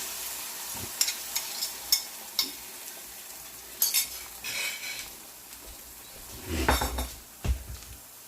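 An egg goes into a hot oiled pan for an egg, cheese and potato omelette and is stirred, with a soft sizzle under sharp clinks and scrapes of a utensil against the pan, close and intermittent.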